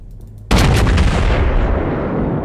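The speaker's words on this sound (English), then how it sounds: "Full broadside with armor piercing" A New Mexico battleship in World of Warships fires a full armor-piercing broadside: one sudden, heavy, loud salvo blast with a long rumbling roar that decays slowly. No one speaks.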